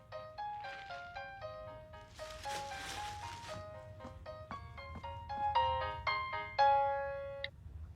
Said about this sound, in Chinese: 林姐，怎么想起给我打电话了